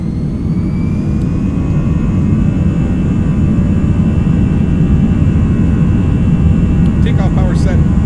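Toliss A319 airliner jet engines spooling up to takeoff power in the X-Plane 11 flight simulator, a loud, steady low roar with rising whine tones running throughout and faint clicks near the end.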